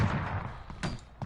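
Gunfire in Call of Duty Battle Royale, a few quick pop shots heard as muffled thumps and cracks in close succession, fairly faint.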